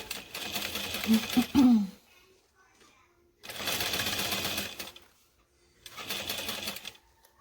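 Sewing machine stitching a fabric divider, running in three bursts of rapid mechanical whirring, about one to two seconds each, separated by quiet pauses, with a voice speaking over the first burst.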